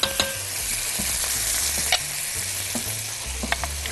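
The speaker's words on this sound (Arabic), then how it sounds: "هنزل مع البصل بالبطاطا واشوح البصل والبطاطا مع بعض" Onion and potato sautéing in butter, a steady close sizzle broken by repeated scraping and stirring strokes of a utensil against the pan, with no voices.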